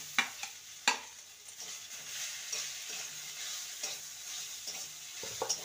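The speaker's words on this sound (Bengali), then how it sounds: "এবারে গ্রেট করা আলুটা দিয়ে দেবো।" Grated potato frying and being stirred in a pan over tempered spices, a steady close sizzle broken by scraping stirs and a few sharp clanks of the spatula against the pan, with no talking.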